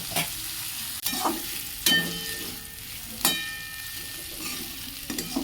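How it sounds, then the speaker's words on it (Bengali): Flat beans, potato and snake gourd fry in a pan with a steady close sizzle, broken every second or so by scraping turns of the spatula that bring louder bursts. "আবার কিছুক্ষণ পর এরকম উল্টে দেবো, এপাশ ওপাশ করে ছড়িয়ে দেবো। ভাজাটা তাড়াতাড়ি হয়ে যাবে।"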